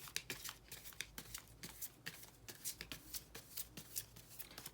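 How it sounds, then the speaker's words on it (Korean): Tarot cards are shuffled and drawn by hand, making a quick series of crisp, papery riffles and slaps, close and fairly quiet, with no talk over them. "카드를 한번 뽑아볼게요"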